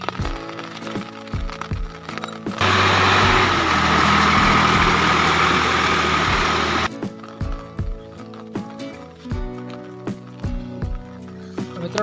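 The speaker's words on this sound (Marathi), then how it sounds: "हे ट्रॅक्टर आलं का" A farm tractor's engine runs nearby with a low, pulsing rumble that surges into a loud, rough roar for several seconds in the middle, then drops back to a steady throb.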